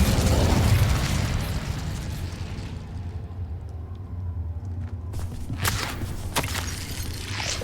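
The Incendio fire spell cast in the video game Hogwarts Legacy, a loud roaring whoosh of flame that fades over several seconds, followed by a few fainter crackles and thuds.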